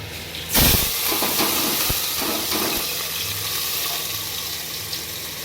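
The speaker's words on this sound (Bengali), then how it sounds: "এখানে মাংসটা করবো বলে সেই জন্য আমি কুকারটা বসিয়ে দিয়েছি" A pressure cooker cooking meat on a stove lets out a sudden loud burst of steam, then keeps up a steady, strong hiss without pause.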